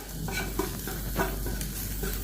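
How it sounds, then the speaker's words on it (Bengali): Egg bhurji scrambling in a hot pan, a close, continuous sizzle broken by the scrape and clatter of stirring at a loose, irregular rhythm. "আমাদের নারায়ণ আন্ডা ভুজি বানাচ্ছে প্রথমে, তারপরে ম্যাগিটা হবে।"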